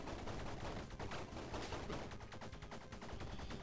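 Rapid video game gunfire from the shooter Bleed crackles in dense, continuous bursts, loud and close, with no talking.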